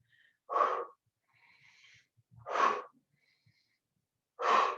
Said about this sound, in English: You want to breathe out when you punch.